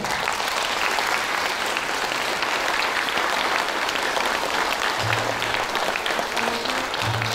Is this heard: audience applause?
yes